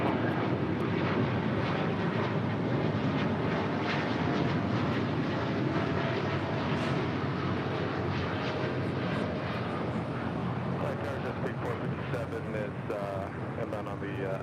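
A heavy airliner lands on runway 25 left at LAX, giving a loud, steady broadband engine roar that fills the whole stretch, with a voice talking over it.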